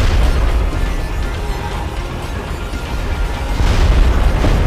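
Deep underwater depth charge explosions from the video game Red Faction II, a continuous low rumbling boom that swells louder toward the end, with no talk.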